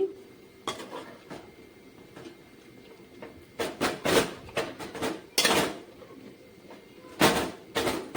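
Gongura chicken is stirred in a pan with a spoon, making intermittent scraping and clattering strokes of metal on the pan. The strokes come in clustered bursts over a low background hum.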